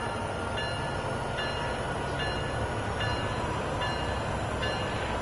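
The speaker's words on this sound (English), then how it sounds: "You have to put the codes in to activate the locomotive." Simulated locomotive in a train simulator game powering up: a steady, loud low engine rumble and hum with a sustained high whine and faint periodic clicks throughout, no talking.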